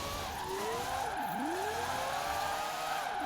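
A Mazda RX-3 four-rotor race car in Forza Horizon 4 drives by, its high engine whine steady, with the pitch dipping sharply and then climbing back. It sounds close and fairly loud, with no talk over it.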